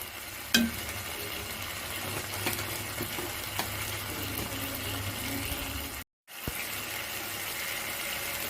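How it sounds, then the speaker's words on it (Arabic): Soft, quiet stirring of a spiced rice kofta mixture seasoned with black pepper, coriander and cumin, a steady close scraping and mixing with one sharper knock near the start and a brief gap near the end. "خلاص هنقلب كل الكلام ده مع بعض كده"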